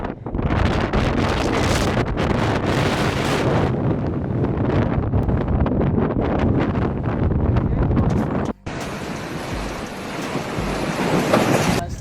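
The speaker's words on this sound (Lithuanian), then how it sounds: "Šiandien einam prie jūros, vėjuota dienelė." A strong seaside wind in Malta buffets the microphone in loud, constant roaring gusts for the whole stretch, with a brief cut partway through and no clear speech above it.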